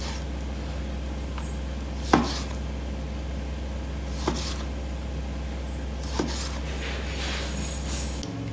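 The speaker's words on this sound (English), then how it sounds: "So to prepare the pork, I'm going to cut it into thin slices." A knife cuts pork into thin slices on a board, three distinct sharp thunks spaced a couple of seconds apart over a quiet, steady background hum.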